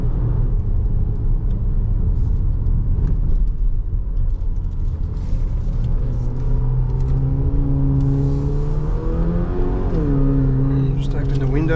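A 2024 Haval H6 GT's engine growls low, then revs climb with rising pitch as it accelerates, heard from inside with the window slightly open, the exhaust rumbling throughout while a voice speaks over it.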